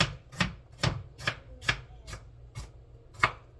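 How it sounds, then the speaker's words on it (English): Knife chopping apples into small pieces on a cutting board while making strawberry jam, seven or eight crisp, evenly spaced thuds close up with no talking. "And I'm just cutting those up, a nice little chop, a chop down"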